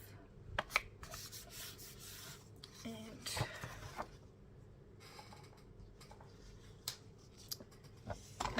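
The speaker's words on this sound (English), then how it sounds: "There's only one sheet of that, so I'm going to fold it in half." A single sheet of colored and white paper is folded in half by hand for a Stamperia Wonderland journal, with soft close rustling, rubbing and creasing scrapes spread through the clip.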